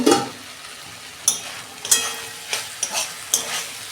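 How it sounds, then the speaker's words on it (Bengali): Vegetables sizzle softly in a pan while a utensil scrapes and stirs in several sharp, irregular strokes. "সবজিগুলো আমি আর 2 মিনিট ভাজবো"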